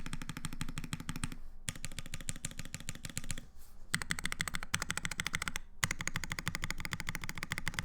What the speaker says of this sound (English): I love the sound of this keyboard.